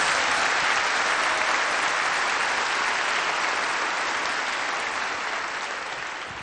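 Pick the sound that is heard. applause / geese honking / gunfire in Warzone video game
applause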